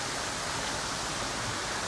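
A waterfall in Dagestan's Sulak Canyon gives a steady, close, dense rushing roar with no pauses.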